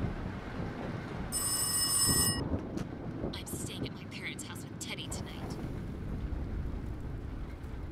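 A bright electronic telephone ring in the video game Rise of Insanity sounds once for about a second, followed by a few faint clicks, over a low background hum and quiet speech.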